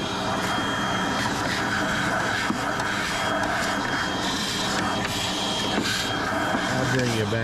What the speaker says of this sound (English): let me get my vacuum here.